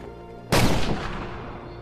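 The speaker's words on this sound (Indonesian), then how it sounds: "Apalagi ketika Chen memberikan beberapa tembakan penghormatan atas keberanian Shikai" A single sharp gun salute shot cracks out, loud and close, followed by a long reverberant rumble that slowly fades.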